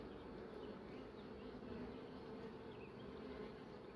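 A honeybee colony buzzing inside a hive that has lost its queen, a steady, dense hum that holds constant and close throughout with no voices.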